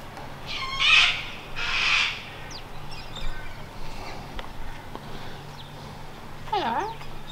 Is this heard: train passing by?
no